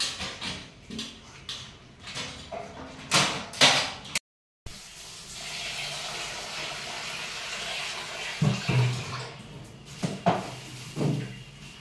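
Water poured into a pot of rice for vegetable biryani, a rushing pour heard close up between clanks of utensils and metal knocks, with a short break partway through.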